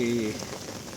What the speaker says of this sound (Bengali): বৃষ্টি কি থামবে না